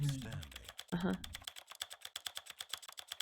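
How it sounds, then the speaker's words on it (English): Office keyboard typing and clicking from the video game The Stanley Parable, a steady run of close, crisp key taps that follows a brief stretch of speech at the start. "The clicking and typing sounds is exactly like an office building."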